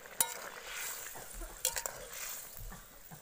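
Fried potatoes and pointed gourd stirred with paneer in a pan, soft scraping and faint sizzling with a couple of light utensil clinks, quiet and close.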